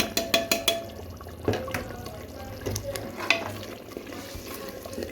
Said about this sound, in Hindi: ये मसाला जो भुन रहा था